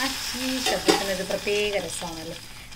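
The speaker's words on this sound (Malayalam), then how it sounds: "കടുകുമുളകും കറിവേപ്പിലേക്ക് വറുത്തിട്ട് കഴിഞ്ഞാൽ നമ്മുടെ കറി റെഡിയായി" Mustard seeds, chilies and curry leaves fry in hot oil for a Kerala mulakushyam curry, giving a close, steady sizzle with crackling pops throughout, while a person talks briefly over it.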